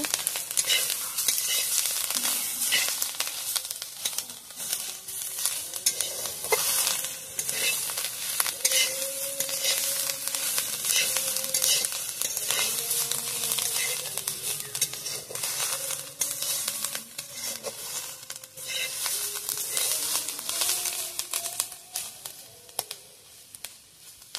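Gira greens frying in oil with mustard paste while being stirred: a steady, close sizzle runs throughout, broken by repeated scraping and stirring strokes of a spatula against the pan.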